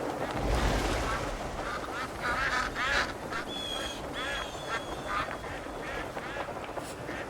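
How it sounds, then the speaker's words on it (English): Ducks quacking in the video game Crimson Desert: repeated nasal quacks and honks in irregular bursts over a busy, noisy game soundscape. "They got ducks coming through."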